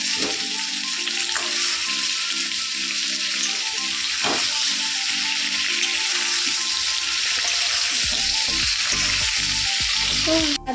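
Potato and pumpkin pieces fry in a pan, producing a steady, close hiss of sizzling oil with a few scrapes and stirring knocks near the end.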